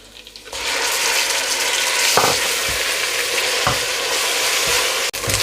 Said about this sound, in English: I'm going to fry them until they're nice and golden brown in colour